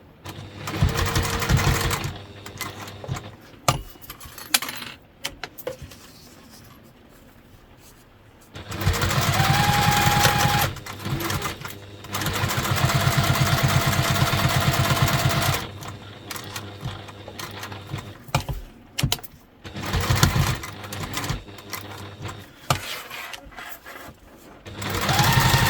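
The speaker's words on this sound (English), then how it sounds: "So now we're going to top stitch and baste the two together." A sewing machine top stitching and basting two layers of fabric for a travel packing pod and wet bag, running in long loud mechanical bursts with quiet pauses between them, and occasional faint handling noises during the gaps.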